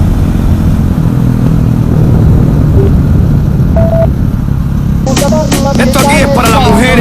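KTM 500 EXC supermoto motorcycle riding past, a steady rumbling engine drone that fades, then a voice begins talking over a quieter background.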